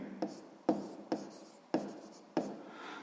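A pen writes on paper in a quiet room, a handful of short scratchy strokes arriving in an uneven rhythm, soft and close with no talking.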